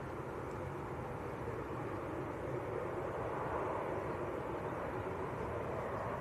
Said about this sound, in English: that is the Emirates from Dubai on the lunchtime service